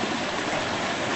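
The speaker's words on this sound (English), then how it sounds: "The water is lifting the bridge up almost." Creek water rushes steadily beneath a small bridge, a continuous broadband gurgling flow, close and fairly loud with no voices.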